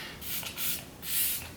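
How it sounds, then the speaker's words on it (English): Algenis hydrating setting spray mists onto a face in three soft, breathy pumps, quiet and close, each a short airy hiss. "I'm just gonna set my face with this Algenis hydrating setting spray."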